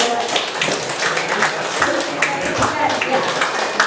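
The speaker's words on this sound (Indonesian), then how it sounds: "Sebelumnya kita kasih semangat dulu dengan tepuk tangan Bapak Ibu" An audience of parents at a school event claps along in rough rhythm, the hand claps dense and close, while voices talk over them.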